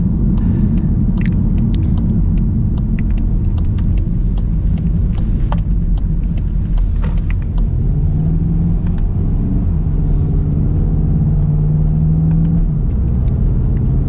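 A 2024 Volkswagen GTI MK8 with the DCT gearbox drones steadily from the cabin, its engine note blended with artificially piped-in exhaust sound over constant low road rumble, with no one talking.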